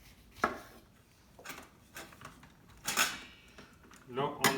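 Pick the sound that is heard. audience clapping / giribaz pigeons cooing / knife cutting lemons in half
knife cutting lemons in half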